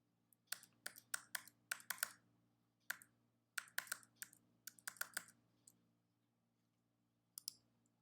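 Credit card details are typed on a computer keyboard in quick bursts of close, crisp key clicks, pausing briefly before a final few taps, in an otherwise quiet room.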